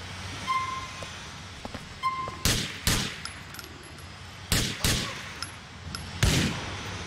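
Loud shotgun blasts from the video game GTA IV, several sharp booming shots fired in irregular bursts with brief gaps between them, over a quiet game background.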